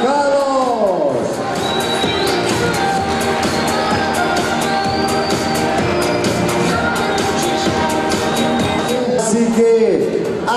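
At a youth baby football awards ceremony, a crowd cheers and shouts with scattered sharp claps throughout, children's voices rising above the steady babble.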